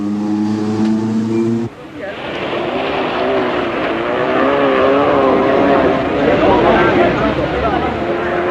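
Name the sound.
Toyota rally car driving off, 1977 RAC Rally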